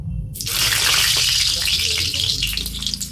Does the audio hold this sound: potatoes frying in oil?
yes